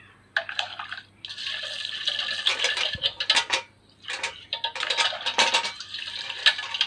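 Brass bucket, tarnished and unused for four or five years, being scrubbed and rinsed: close scraping and clinking metal with splashing water in uneven bursts, a brief pause midway, no talking.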